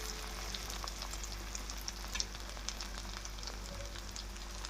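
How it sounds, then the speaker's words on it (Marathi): Honey butter chicken pieces sizzling and frying in a pan as they are turned over, a continuous crackling hiss with small pops and a low steady hum beneath, close and fairly loud, no talking. "दोन्ही साईडने व्यवस्थित भाजून घ्यायचे मी हे टर्न करत आहे"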